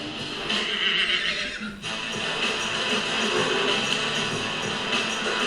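A horse whinnies loudly and close by against a busy, noisy background, with a sustained neigh that fades after a couple of seconds.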